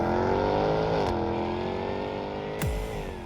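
A Jaguar F-Type sports car engine drones steadily and loudly while driving, its pitch dipping slightly mid-run, with a brief sharp transient and low thump near the end.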